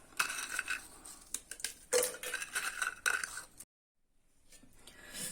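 Eight biscuits dropped one after another into a mixer jar, giving a quick string of hard clinks and clatters over several seconds, then a sudden silence and faint room noise.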